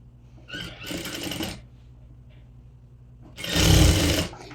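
A sewing machine stitches along a folded fabric edge in two separate runs, the first short and moderate, the second louder and longer, with near-silence between them.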